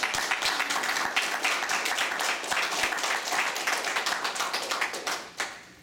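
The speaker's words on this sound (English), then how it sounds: "give yourselves a round of applause" Audience applause at a humorous speech contest, sustained dense clapping from a crowd that holds steady for several seconds before tapering off near the end.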